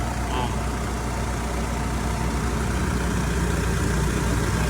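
Mitsubishi Montero Sport idling with a worn air-conditioning compressor: steady, loud, continuous engine hum and mechanical whir, close and unbroken throughout.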